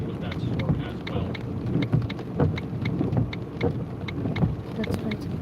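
Rain from an intense line of thunderstorms with lightning and 60 mph winds west of Nashville, Tennessee, patters steadily on a storm-chase vehicle with low rumbling underneath, while voices talk in the background.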